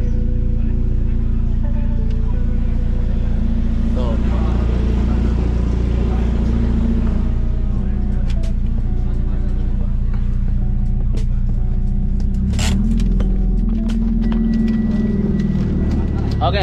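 A car engine idles and rumbles at low pitch as the car is driven inside a shopping mall, steady and close, with people chatting over it.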